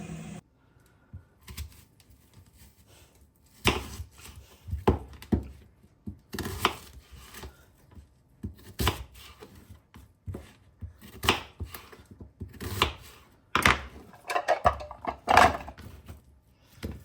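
Onions being chopped on a cutting board, a close series of irregular knife taps in quick bursts separated by short pauses, fairly quiet with no talking.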